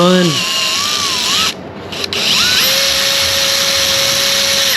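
A power drill whines loudly up close as it bores into the gel coat of a boat, its pitch rising and shifting under load, with a short pause before the drilling resumes.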